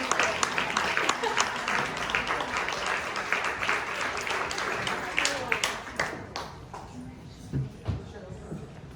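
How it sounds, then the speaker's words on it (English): Applause at a luncheon, a dense burst of many hands clapping that gradually thins out and fades, with voices talking underneath. "give them another round of applause"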